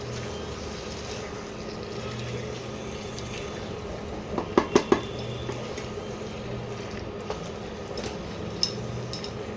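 Spiced chicken masala is worked in a pan as water is added little by little, giving a steady background cooking hiss with a short cluster of sharp metal utensil clinks midway and a few faint taps later.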